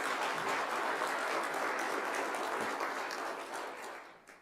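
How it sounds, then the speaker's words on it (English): A crowd claps steadily in a dense wash of applause that fades out toward the end. "That's known as welfare applause."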